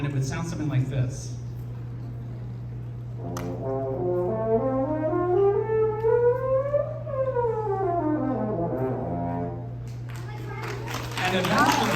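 A valveless natural French horn climbs up and back down through its limited set of harmonic notes in a smooth brass run, close and clear over a steady low hum, with brief crowd noise at the start and end.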